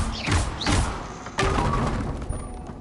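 In the video game Hogwarts Legacy, a Confringo spell strikes with sharp, crashing thuds, about three impacts in quick succession, followed by a lingering rumble.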